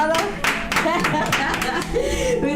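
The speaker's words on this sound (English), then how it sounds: "Let's give Devan Naidu a round of applause." A small group claps for a performer at the close of a Hindu-themed show, a brief burst of hand claps and light laughter mixed under a talking voice.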